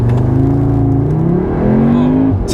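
A 2022 VW Golf R or new Audi S3 pulling away in a quick launch, its engine note climbing steadily as it gathers speed, loud and close with no talking over it.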